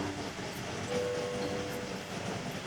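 A train from the Train Valley video game runs steadily, a continuous rolling rumble with a faint sustained whistle-like tone partway through, alone with no talk.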